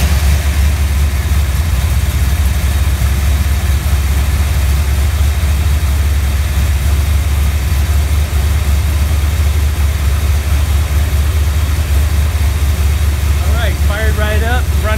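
A 406 small-block Corvette V8 fitted with an 800 cfm Edelbrock Thunder AVS carburetor idles steadily with a loud, continuous low rumble throughout, with a brief higher chirp near the end.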